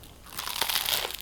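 A single close crunch of teeth biting into a grilled cheese sandwich made with homemade bread, a brief crisp crackling burst with no talk.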